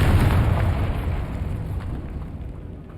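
A Confringo fire-blast spell exploding in the Hogwarts Legacy video game, a loud, deep booming burst up front that rumbles and slowly fades away over a few seconds.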